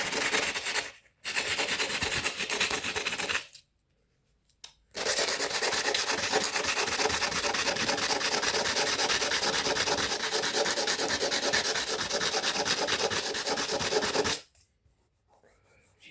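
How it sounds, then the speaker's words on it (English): Adhesive being sanded off with coarse 60-grit sandpaper, a loud, continuous, rough rasping rub in long strokes broken by two brief pauses and a stop near the end. "This 60 grit, man, it only takes it off little by little."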